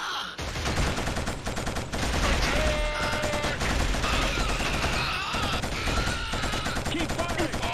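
Dense, continuous video game gunfire from Killzone Shadowfall: sustained suppressive automatic fire with overlapping bursts and shots, loud throughout, with voices talking over it at times.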